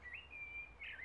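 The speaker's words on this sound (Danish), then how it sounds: "Jeg håber, I kan høre os på de der fugle." Small birds chirping outdoors, a thin steady tweeting call running the whole moment with a brighter burst near the end, over faint low background rumble and no voices.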